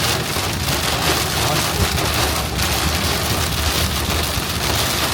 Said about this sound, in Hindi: यहाँ पे तो और तेज बारिश हो रही है।